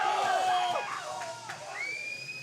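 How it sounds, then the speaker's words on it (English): A packed crowd at a powerlifting competition roars loudly and continuously, with shouts and whistle-like cries rising over the din. "The crowd is just absolutely apoplectic."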